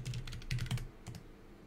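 Typing on a computer keyboard while writing a program in the vim editor, a quick run of close, crisp key clicks that thins out into a few scattered taps.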